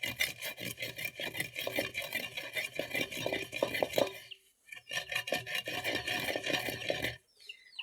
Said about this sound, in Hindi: सौंफ जो है इसको कुंडे के अंदर अच्छे से पीस लेंगे